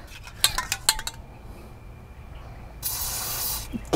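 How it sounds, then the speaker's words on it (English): A short hiss of Fluid Film lubricant sprayed from an aerosol can into the bolt holes of a Porsche brake disc on a 1967 VW Bus, coming after a few close metallic clinks of brand new hardware-store bolts. "A little bit of fluid film in the holes."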